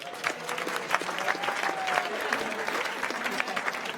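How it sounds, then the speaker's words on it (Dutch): Applause for the sports jury at a regional sports and entrepreneurs awards evening, moderate clapping from a modest crowd with crisp individual claps and faint chatter underneath. "ik wil graag een applaus voor de sportjury"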